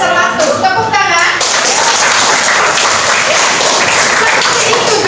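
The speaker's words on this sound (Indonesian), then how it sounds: "Tepuk tangan." A classroom of students claps loudly together after a correct answer, the dense applause following a brief voice at the start and continuing steadily to the end.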